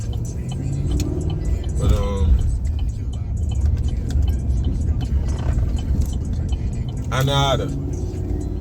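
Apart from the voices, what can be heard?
car driving on a road, interior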